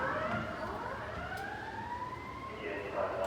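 A paramedic emergency vehicle siren sweeps up and down at a moderate distance as the vehicle drives off to a call, carried over steady traffic and outdoor background noise.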